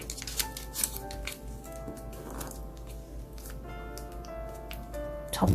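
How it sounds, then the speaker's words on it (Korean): Colored origami paper being folded into a triangle, with soft crinkles and creasing taps scattered over a steady tonal musical background, a louder rustle at the end. "이렇게 삼각형으로 접어주세요"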